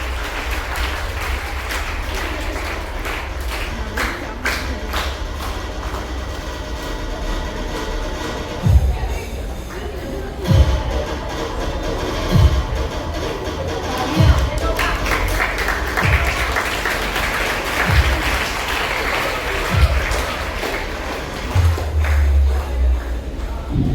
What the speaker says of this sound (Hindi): जोरदार तालियां जरूर चाहिए बच्चों।